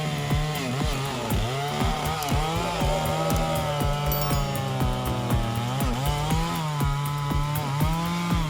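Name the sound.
chainsaw cutting a centuries-old oak tree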